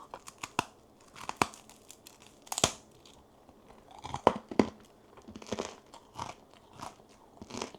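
Close, loud crunching of hard, dry, stale air-fried bread, like baguette, being bitten and chewed, in irregular bursts with brief quiet pauses between.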